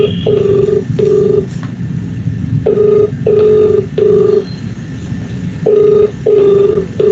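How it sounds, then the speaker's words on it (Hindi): A telephone ringtone plays as short electronic beeps in repeating clusters, sounding over a loud, constant rumbling background noise with no one talking. "इसका रिंगटोन कैसे बनता है?"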